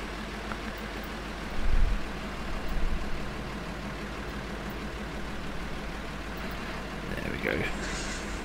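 A tractor engine in Farming Simulator 2013 drones steadily at a low, even idle throughout, with a couple of brief louder rumbles early on and a faint higher clatter near the end.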